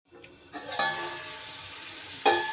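Potatoes frying in a pan for a spiced potato and long bean dish, a steady sizzle broken by a few sharp bursts as the pieces are stirred, close and moderately loud, with no talk.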